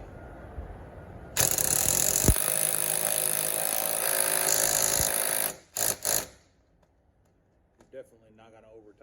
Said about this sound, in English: give it a couple of ugga-duggas with your little screw gun there